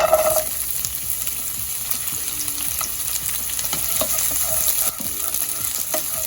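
Chopped shallots sauté in hot olive oil in a pan, giving a steady close sizzle and crackle with occasional stirring scrapes, loud and continuous and free of speech.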